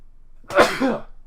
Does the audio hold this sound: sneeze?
yes